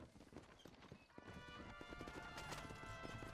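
Horse hooves clip-clopping on a ride in Red Dead Redemption on Xbox One, quiet rhythmic hoofbeats building into a steady gait under ambient game sound.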